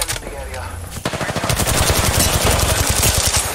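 Automatic gunfire from Apex Legends, a fast rattling burst of shots that begins after a second of game ambience and continues steadily to the end.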